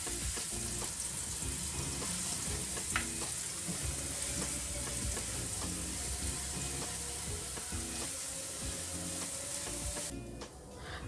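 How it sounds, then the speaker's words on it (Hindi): Ginger garlic paste fries in hot oil in a kadai, giving a steady, dense sizzle with occasional stirring scrapes, close and continuous, ending with a brief dip near the end. "और उसके साथ ही जिंजर गार्लिक का पेस्ट, इसको थोड़ा सा फ्राई करेंगे।"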